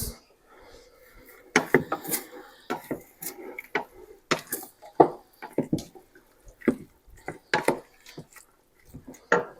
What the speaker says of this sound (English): I'm going to add the broccoli now.